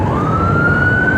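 Fire engine siren wailing through city streets after an earthquake, a single loud rising tone over heavy traffic rumble, close and continuous for the brief moment.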